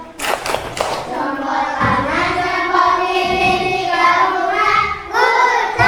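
Schoolchildren in an elementary classroom chant together in unison while clapping a rhythmic group routine, with sharp claps clustered at the start and loud, steady sung voices carrying through.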